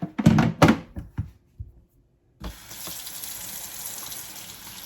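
A few dull thuds and knocks, a brief pause, then a steady stream of water running from a tap into a sink while kale is washed.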